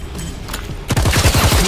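A rapid burst of gunfire in the tactical game ShowGunners rings out loud and close in the second half, with quieter game ambience before it.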